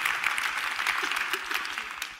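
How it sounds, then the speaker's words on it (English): Audience applause fills a tent at a church-style talk, a steady wash of many hands clapping at moderate loudness throughout, with no voices standing out. "At any point, you can applaud for this, because this stuff is real."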